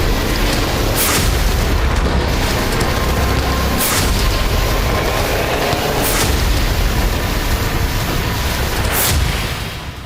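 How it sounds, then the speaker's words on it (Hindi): Heavy artillery shelling in the Kursk war zone rumbles as loud, continuous low booms, with several sharper blasts standing out at intervals over a dense roar. "गोलाबारी हो रही है।"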